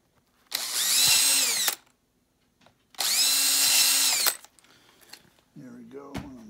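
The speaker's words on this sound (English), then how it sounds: "Now I'll drill the break while I'm at it." A power drill bores a 3/16 hole for a wire while lights are fitted to an E-flite Viper jet model. Two loud, steady whining bursts are separated by a pause, and softer handling noises follow.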